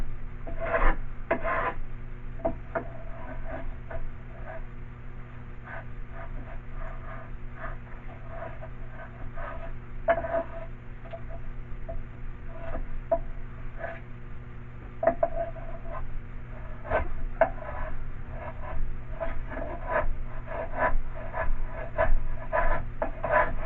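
An old planer blade scrapes across wood on a boat frame, irregular rasping strokes in uneven bursts over a low steady background hum.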